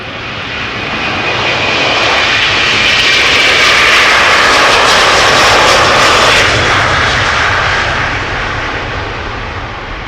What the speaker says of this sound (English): Delta Airlines Flight 161 to Minneapolis, Minnesota, A330-300 coming this way.